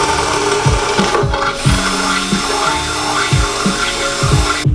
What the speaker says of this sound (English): we've got a nice hole drilled in a good spot where it's not gonna interfere with any of our oil pan bolts